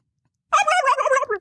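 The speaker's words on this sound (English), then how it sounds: "That's a male turkey right there." A male turkey gobbles once, a loud rapid rattling burst about a second long, close by and alone after silence.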